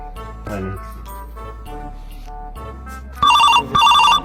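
A telephone ringtone sounds in two loud, repeating electronic bursts near the end, following quieter background music.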